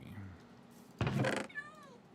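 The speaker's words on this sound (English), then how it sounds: "I don't know what the cat's going on about." In the Minecraft video game, a cat lets out a short meow, one clear cry rising out of quiet background game sounds. A faint voice is heard near the start.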